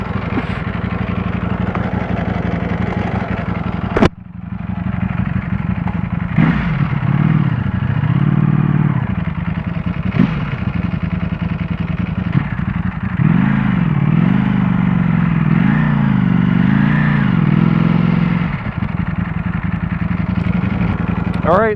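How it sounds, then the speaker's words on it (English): A 2018 Ducati Panigale V4, a 215-horsepower motorcycle, idles at a stoplight with a loud, lumpy rumble and occasional blips, close up, while a rider talks over it. "here we are sitting at a stoplight on a 215 horsepower motorcycle"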